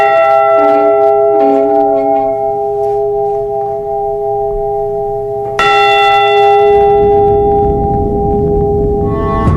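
A large bronze ship's bell, a replica tied to the Edmund Fitzgerald, is heard in two loud resonant strikes. The first rings out with a long sustained hum, and a second strike adds a bright renewed ring that decays slowly.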